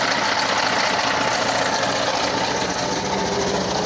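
A fodder chaff cutting machine's engine runs steadily after starting, a loud, continuous mechanical drone with a rapid knocking chug and vibration, close by and without talk.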